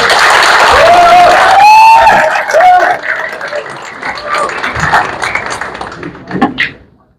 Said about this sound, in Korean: 한 분 한 분 소개드릴 때마다 큰 박수로 환영해 주시기 바랍니다